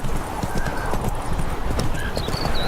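Hooves pound rapidly as Roach gallops in The Witcher 3, a steady run of close clip-clop beats lasting nearly three seconds. Faint whinny-like tones and ambient game sound lie underneath.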